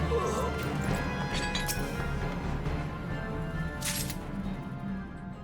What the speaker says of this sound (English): And that's another orb destroyed